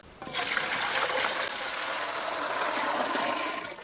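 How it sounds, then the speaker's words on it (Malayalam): A potful of water poured into a vessel while making Kozhikode halwa, a steady, continuous splashing gush that starts abruptly and runs loud and close without a break. "ഇതിൽ നമുക്ക് 1 കുടം വെള്ളം ഒഴിച്ചു കൊടുക്കാം"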